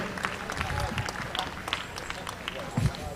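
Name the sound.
audience applause at a championship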